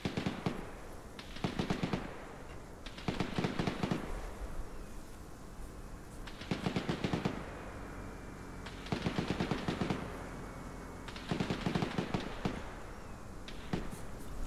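Bursts of automatic gunfire in a military shooter game, rapid rattling volleys repeating roughly every two seconds at moderate distance, with short pauses between strings of shots and no talk over them.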